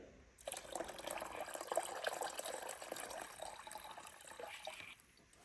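Paint reducer is poured into a car paint mix during a 1987 Bronco restoration, giving a faint, steady trickling liquid stream for about four and a half seconds that starts and stops cleanly, with no talk.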